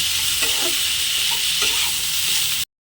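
Ingredients with chopped onion being stirred and fried for a muri ghonto, a loud close sizzle broken by several spatula scrapes before it cuts off abruptly.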